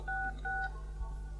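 Two short dual-tone telephone keypad beeps sound in quick succession, clear and fairly loud over a low steady hum, followed by quiet background.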